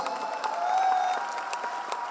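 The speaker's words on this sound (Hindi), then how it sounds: "संदीप सर के लिए जबरदस्त तालियां होनी चाहिए" Applause at an Asclepius Wellness (AWPL) gathering: a crowd claps steadily and fairly loudly for about two seconds, dense and continuous with a faint tonal hum underneath.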